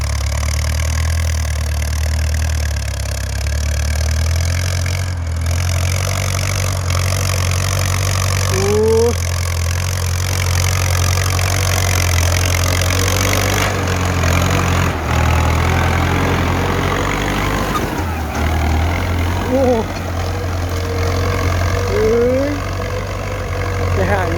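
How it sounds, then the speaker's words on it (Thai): A Ford 6600 tractor engine runs steadily while ploughing a grassy rice field, a constant low diesel drone with slight load changes throughout, and someone talks over it at times. "รถไถฟอร์ดเท่าขั้นนี้"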